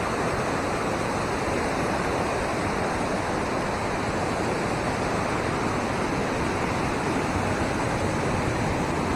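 Water gushes out under strong pressure in November, a steady loud broadband roar that stays constant throughout with no pauses or voices.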